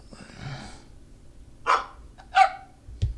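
A dog bark sound effect from the Scratch animal sound library plays as a few short, sharp barks, with a faint breathy sound before them.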